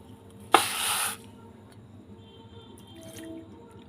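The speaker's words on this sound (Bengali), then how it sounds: "এক বাটি চিনিতে আমি দেড় বাটি জল দিয়ে দেবো" Water pours from a bowl into a bowl of sugar for syrup, a short, close splash and gush lasting about half a second before fading to quiet.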